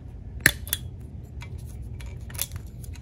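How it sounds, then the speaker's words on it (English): Wire cutters snipping plastic tie straps on the cables of a Blix Vika+ electric bicycle: a sharp close click, then a second snip, followed by a few fainter handling taps. "we have tie straps, and we are going to cut those"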